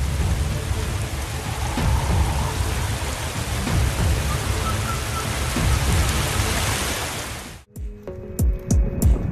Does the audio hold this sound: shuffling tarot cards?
no